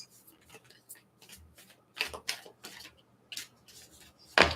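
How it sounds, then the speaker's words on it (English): A deck of playing cards is shuffled by hand in a quiet room, giving a series of short riffling and rubbing bursts at an uneven pace, ending in one sharp, louder riffle close by. "Give this a few shuffles."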